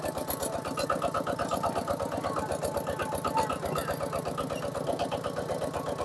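A vehicle engine chugs with a steady, rapid mid-pitched rhythm on a rural road in Laos, close and continuous with no talking.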